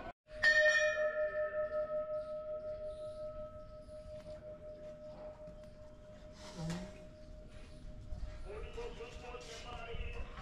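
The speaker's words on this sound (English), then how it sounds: "We could hear the bell of a temple in the distance." A single temple bell at Mehrangarh Fort in Jodhpur, India, strikes once and its tone hums on for several seconds, slowly fading, followed by faint outdoor sounds and distant voices.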